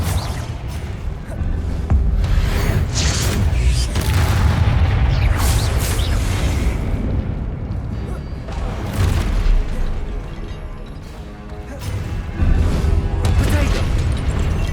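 Confringo blasting spells explode repeatedly during a Hogwarts Legacy fight, with loud booming bursts and rumbling impacts layered densely throughout, mixed with game combat noise and voices.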